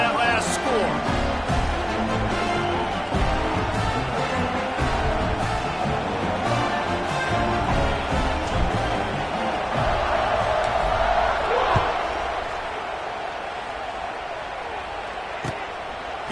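Stadium crowd at a Penn State football game, a loud sustained roar and buzz after a score, with a play-by-play voice talking over it.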